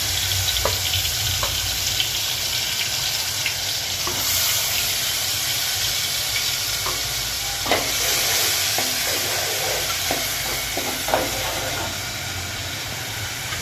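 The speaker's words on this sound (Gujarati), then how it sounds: "કાંદા અને ટમેટા અંદર ઉમેરીશું।" Onions and tomatoes sizzle in hot oil with asafoetida in a pan, a steady frying hiss broken by scraping stirring clatters; close and loud, with a bit of voice under it.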